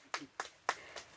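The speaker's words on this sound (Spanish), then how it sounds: "Un aplauso para los niños." A small group claps for children at an outdoor gathering, four short separate bursts of applause at moderate distance, each quick and fading, with no talk over them.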